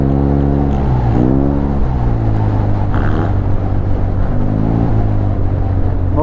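A 2015 Yamaha TMax 530 Iron Max scooter engine revs loudly and close through a chicane, its steady harmonic drone sweeping up and down in pitch as the throttle rises and falls over about six seconds, with no speech.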